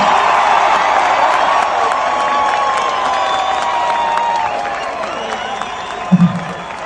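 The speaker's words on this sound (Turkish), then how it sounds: "biraz daha bekleriz bir 15 dakikada diyenler alkışlasın." Concert crowd clapping and cheering in a dense, loud wash that holds steady throughout, with whoops and a voice over a PA system, gathered outdoors at a rain-delayed show.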